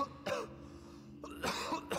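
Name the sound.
coughing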